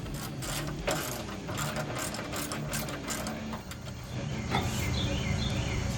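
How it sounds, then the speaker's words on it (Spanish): A ratchet clicks in quick repeated bursts while backing screws out of an intercooler part on an LS 5.3L Procharger setup, close and fairly clear over a faint mechanical background. "Es simplemente sacar un tornillo aquí, otro tornillo aquí y otro tornillo aquí abajo"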